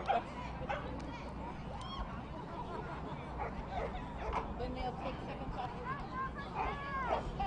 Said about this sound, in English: Threat, a Border Collie